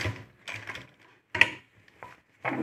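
A sewing machine stitches a blouse neck in short, separate bursts of clattering mechanical ticks, close by, with quiet gaps between runs.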